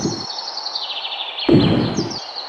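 Cartoon ducks, chickens and birds penned on a farm call out in high, whistling chirps that overlap in two short bursts, fairly loud and without speech.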